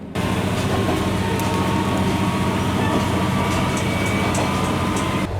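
A train runs steadily through the Iga basin on the Kansai Main Line, a continuous loud rolling rumble with faint wheel rattle heard from inside the carriage for the whole stretch.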